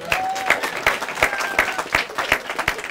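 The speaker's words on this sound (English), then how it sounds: "That's a clap moment." Wedding guests break into brisk, scattered applause during the ceremony, with a dense crowd of clapping hands and a few whoops heard close by.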